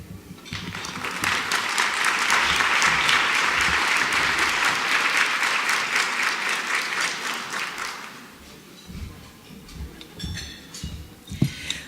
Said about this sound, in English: We applaud you, and we thank you.